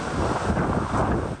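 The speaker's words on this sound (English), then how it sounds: "It brought damaging storm surge, hurricane force winds, and the threat of tornadoes" Hurricane Beryl's winds, gusting over 90 miles an hour in southeast Texas, roar as a loud, continuous rush that buffets the microphone for a brief moment.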